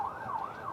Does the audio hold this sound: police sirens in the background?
yes